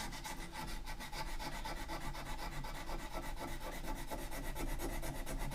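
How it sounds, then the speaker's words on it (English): Steady back-and-forth rasping of sandpaper rubbing by hand on a wooden knife handle, close and rhythmic, continuing without pause. "sometimes I get rid of that darn stick and just go to the hand sanding"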